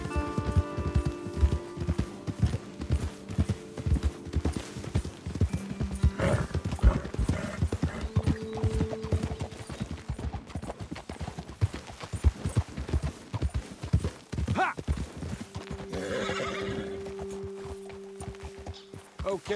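Horse hooves clip-clop steadily at a walking pace in Red Dead Redemption II, with a couple of neighs and snorts rising over the hoofbeats partway through.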